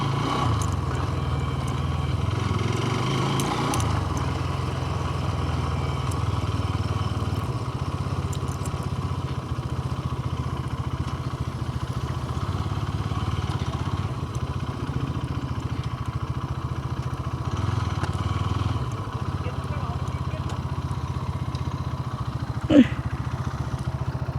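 A new motorcycle, about two months old, ridden with no brakes and only engine braking, gives a steady close engine drone mixed with wind rumble throughout, with one brief sharp knock near the end.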